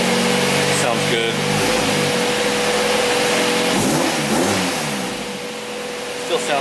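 A car engine fitted with a new Revel exhaust revs and settles near idle, a steady loud exhaust drone with rising and falling pitch, recorded up close.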